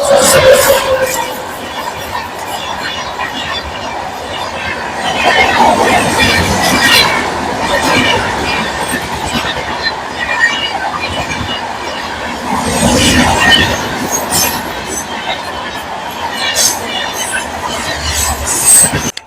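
The 12245 SMVT Duronto Express pulls into a station platform at night with a loud, continuous rumble of wheels and carriages, metallic squeals and a murmur of people around.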